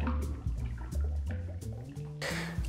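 Lamb's white rum is poured for a cocktail, a soft liquid glug and trickle with small dripping sounds, quiet and close, ending in a brief brighter splash.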